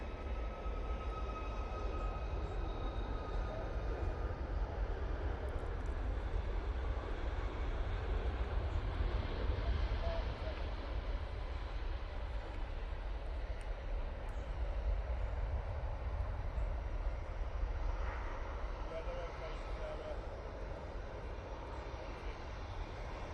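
An airliner departs Manchester Airport for Faro with a sustained, fairly loud jet roar that stays broad and steady for over twenty seconds and holds up without fading.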